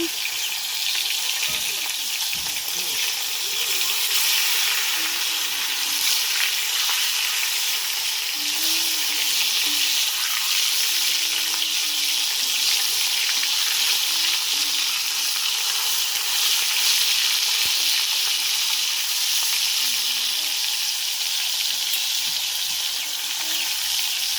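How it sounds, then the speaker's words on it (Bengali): Chicken marinated with ginger, cumin, turmeric and salt frying in hot oil for chicken roast, a loud, dense, continuous sizzle and crackle heard close up for the whole stretch, with no pauses. "এখন এটা ভালো করে তেলের মধ্যে ভেজে নেব।"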